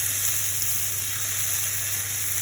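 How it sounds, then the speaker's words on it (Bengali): Tomatoes fry in a pan for Bengali egg curry, a close, steady, even sizzle with a constant hissing texture and no talk, unbroken for the whole moment. "টমেটোটা ভালো করে কষতে হবে"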